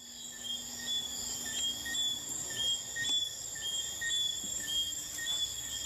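Crickets and frogs chirping outdoors at night, heard from inside an old dungeon at Rose Hall; steady layered insect trills and repeated calls at moderate distance, with no talking.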